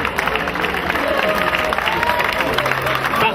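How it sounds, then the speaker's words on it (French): A crowd at a football tournament ceremony applauds loudly and continuously, a dense close wash of clapping with faint cheering mixed in. "Et on les applaudit très fort."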